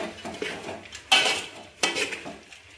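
Crushed peanut powder stirred into chopped green chickpea leaves in a pan, heard as close clinks and scrapes of a spoon against metal with two sharp louder strikes.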